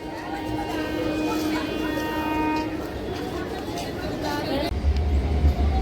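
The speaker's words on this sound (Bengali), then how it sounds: "বনগা ট্রেন ঢুকছে" A Bongaon local train pulls into Ranaghat station in the morning, giving a sustained tonal whine over steady rumble that deepens into a low rolling roar near the end, with voices in the background.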